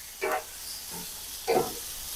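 Peppers and steak stirred on a Weber full-size gas griddle, giving two brief bursts of scraping sizzle over a steady frying hiss, close and moderately loud.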